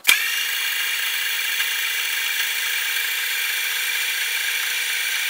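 The power feed drives the Y-axis of a Grizzly G0761 milling machine: a sharp start, then a constant high-pitched motorized whine and gear drone that holds evenly and close by to the end.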